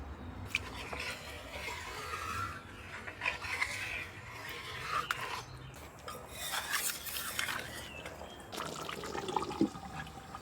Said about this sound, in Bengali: পানি দিয়ে দিচ্ছি সিদ্ধ হলে যে শুকায় যাবে ফুটানো পানি দিয়ে সিদ্ধর জন্য অপেক্ষা করবো